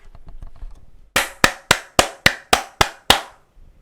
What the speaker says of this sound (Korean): 우리 삼성한테 박수 한번 칩시다